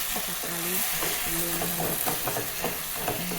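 Tomato and onion sauté in a pan for chicken curry, a steady soft sizzle with stirring scrapes, and a voice speaking intermittently over the cooking.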